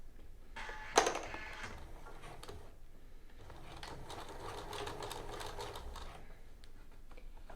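A sewing machine stitches a pocket seam on a dress. A sharp mechanical clack comes first, then a soft, steady stitching run close by, quiet and unbroken.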